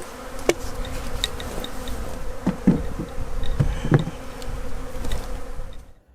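Honey bees buzz around a hive, a steady close hum with individual insects darting past the listener now and then.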